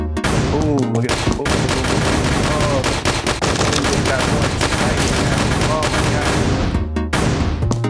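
Rapid gunfire and explosions from a Unity platformer video game crackle densely and loudly, with rattling shots, booming impacts and synthetic effects over continuous game music, plus a brief gap near the end.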